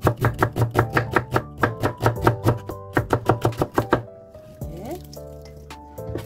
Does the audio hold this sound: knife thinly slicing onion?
yes